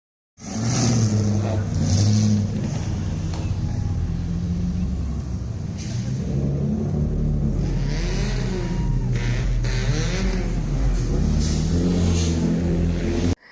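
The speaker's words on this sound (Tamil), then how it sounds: "எங்கள் ஸ்ட்ரீட்டையே பார்த்திங்கன்னா ஒரு 4-5 தடவை இந்த மாதிரி ஒரு கார் ஷோ வந்து ஏற்பாடு பண்ணியிருந்தாங்க" Cars rev loudly at a street car show in the USA, a continuous close engine roar with repeated throttle surges and rumble running for over ten seconds.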